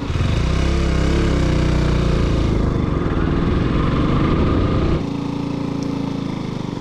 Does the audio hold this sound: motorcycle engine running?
yes